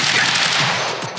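Rapid scatter-gun blasts from a shotgun in the video game Quantum Break, a dense, continuous burst of gunfire lasting about a second with faint voice underneath.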